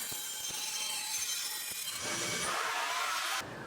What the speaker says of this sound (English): Then I cut some sanding shims with my little bandsaw.